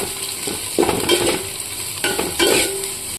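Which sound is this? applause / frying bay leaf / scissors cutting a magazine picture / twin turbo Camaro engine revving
frying bay leaf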